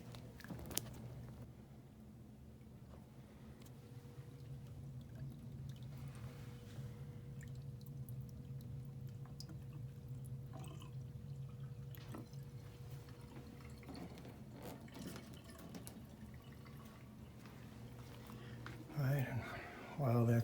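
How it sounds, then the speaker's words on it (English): Water siphoning out of a clogged Trane furnace drain into a bathroom sink, a faint steady trickle and drip running for the whole stretch, with a brief louder clatter near the end. "So I'm going to go down here, siphon out to this bathroom sink."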